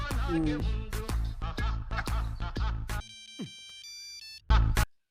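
A phone rings with a melodic song-like ringtone, loud and close, in repeated musical bursts, followed by a higher electronic tone and a short loud burst.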